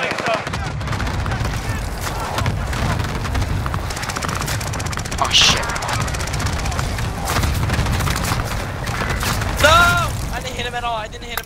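Cluster strike explosions and gunfire fill a Warzone match, a dense, continuous barrage of booms and shots running throughout, with voices talking over it.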